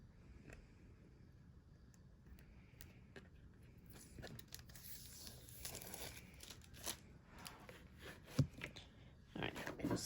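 Protective plastic film being peeled off the front of a sheet before Cricut engraving, heard as faint, close crinkling and tearing that grows louder and more irregular toward the end.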